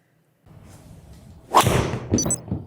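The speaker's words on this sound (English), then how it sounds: "the head sounds very in between a carbon and a titanium head" A sharp, crisp crack of a PXG 0311 GEN6 golf driver striking a ball, followed moments later by a second fainter impact with a thin metallic ring, over faint background hum.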